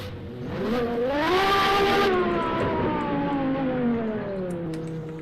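Race car at full throttle climbing a hill, engine pitch rising then holding and gradually falling as it pulls away, loud and continuous with no voices.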